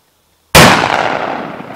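A single loud 12 gauge shotgun blast firing 00 magnum buckshot outdoors at Sly Park, a sharp close report after a moment of silence, then a long rolling echo that fades slowly.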